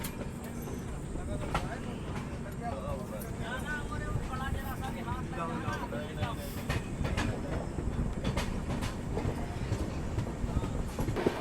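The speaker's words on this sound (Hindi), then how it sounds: "आप LHB का जो फिएट साउंड है ना वो आप सुनो" LHB coaches of the Subedarganj–Dehradun Express rolling along the track, a continuous rumbling rattle with faint wheel clatter and voices murmuring inside the carriage.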